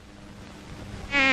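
Flies buzz in a short burst, a faint hum that swells into a loud, close, whining drone near the end, with no voices.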